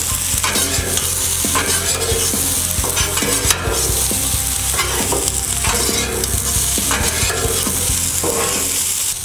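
Vegetables for fried rice sizzle loudly and steadily on a flat top outdoor griddle while seasoning is tossed in, with the sharp scrape and clack of spatulas stirring them in an irregular rhythm throughout.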